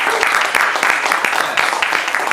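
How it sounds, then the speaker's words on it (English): Audience applause for actress Arlyn Broche at a conversation event, a dense, loud burst of many hands clapping steadily throughout, close and continuous. "Everyone, please give a round of applause for Arlyn."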